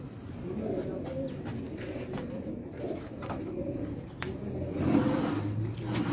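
Soft pigeon coos repeat in a low, throaty rhythm on a rooftop in Karachi, against a busy background with faint traffic and scattered clicks.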